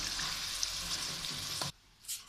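Chicken pieces fry in a pan for a chicken curry, giving a loud, close sizzle that cuts off abruptly partway through and leaves near silence.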